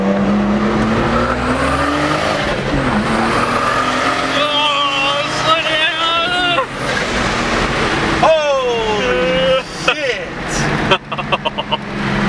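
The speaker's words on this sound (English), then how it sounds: "This is the first actual pull on 20 PSI." Turbocharged BMW E46 pulling hard at 20 PSI of boost, a loud, rising engine note sweeping up through several gear changes, with chirps near the end and people talking over it.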